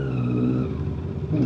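Motorcycles rev close by on a road near a cafe in Lipa, Batangas, a loud engine drone with overlapping tones that shifts pitch midway.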